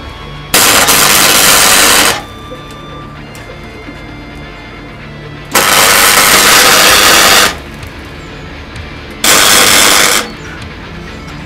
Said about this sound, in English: Just gonna weld those on.